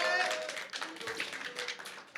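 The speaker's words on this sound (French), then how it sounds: "Mesdames et messieurs, merci d'applaudir Bruno" Audience applause for Bruno at an opening ceremony, a fairly light, scattered round of clapping that fades slightly over two seconds, with a voice briefly audible at the start.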